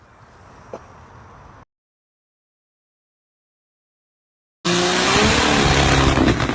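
A Rlaarlo Omni-Terminator RC car drives past, first a faint hum, then a gap of silence, then a loud, sustained motor whine with tire noise close by.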